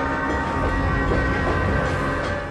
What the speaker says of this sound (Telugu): ట్రైన్ స్టేషన్ నుంచి బయలుదేరింది,